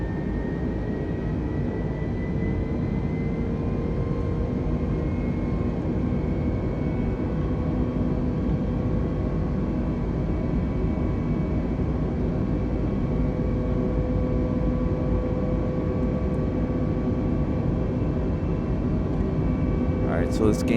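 Steady, loud drone of an aircraft engine after the throttle is opened in Flight Simulator 2020, a continuous hum with faint tonal whine held evenly throughout with no talk over it.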